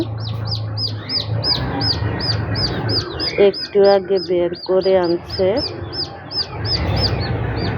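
Newly hatched chicken chicks, hatched under a pigeon, chirp in rapid, high, repeated peeps close by throughout, while a person talks over them for part of the time.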